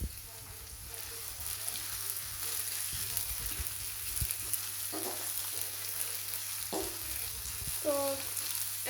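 Fish fries in plenty of oil for a spicy boro mach dish with eggplant and potato, a constant close sizzle broken by a few stirring scrapes and a brief clatter near the end, with no talk.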